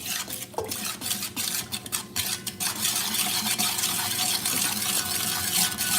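Spring water is poured into a potent drink and stirred with a utensil, with sharp clinking strikes against the container over a steady wash of swirling liquid.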